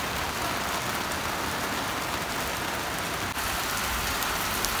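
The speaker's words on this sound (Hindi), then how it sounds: "बारिश बहुत ज़्यादा तेज़ हो गई" Heavy rain pours steadily at Malam Jabba in Swat, a dense, continuous hiss of drops on surfaces that stays close and loud throughout with no pauses.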